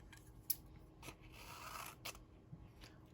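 Scissors cutting through craft material, a few close, quiet snips and crunchy scrapes spaced irregularly, with no talking.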